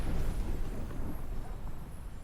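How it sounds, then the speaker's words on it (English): An explosion in the video game Final Fantasy 16 gives a heavy, rumbling low blast that fills the scene and slowly fades over about two seconds, with no talk over it. "That's gonna explode."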